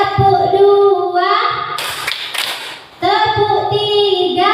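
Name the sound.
children clapping in a counted clapping game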